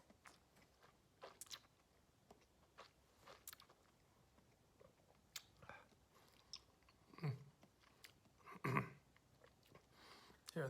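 Soft wet mouth sounds of someone chewing and working a sip of Smögen 8-year-old 2011 single malt whisky, with faint smacks and clicks spread across a quiet background.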